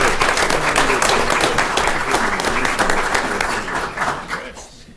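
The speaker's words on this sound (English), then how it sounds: "Everybody give them a round of applause." An audience at an Odessa city council meeting gives a round of applause, dense and loud from the start, tapering gradually and thinning out toward the end.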